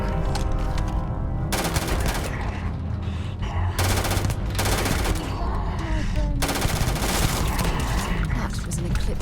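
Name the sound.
gunfire from a video game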